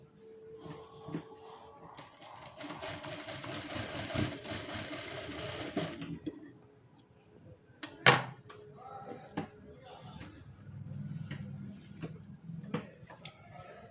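Sewing machine stitching tucks on a blouse sleeve: a fast, dense mechanical stitching run of about four seconds, followed by scattered clicks, taps and handling of fabric and parts, close and fairly quiet.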